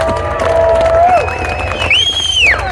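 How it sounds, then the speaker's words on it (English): A crowd claps and cheers at an outdoor convoy meeting, a steady wash of applause with scattered shouts and whistles, fairly loud and continuous. "Round of applause to that guy for continuous coverage of what's going on down here."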